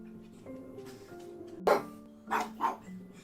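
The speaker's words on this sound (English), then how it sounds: "No idea what those pooches are barking at." Dogs barking indoors, a few sharp, loud barks in quick succession after a quiet stretch, with faint background tones beneath.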